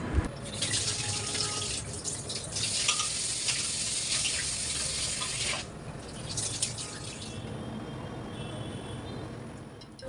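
Tap water runs steadily into a kitchen sink as fish heads, rohu and katla, are rinsed clean, a continuous broadband splash close by that thins and eases after about five seconds.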